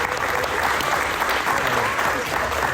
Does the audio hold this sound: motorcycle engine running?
no